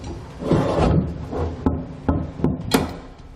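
A Curt custom fifth wheel base slides along the bed of a Ram truck into its mounting tabs with a scraping shuffle of heavy metal, followed by several sharp clunks and knocks as it seats, close and fairly loud.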